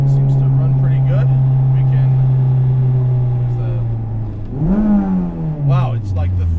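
Engine of a 1998 Acura Integra GSR with an all-motor build holding a steady high drone that drops, then swoops up and back down in a quick rev, loud and close with a voice talking over it.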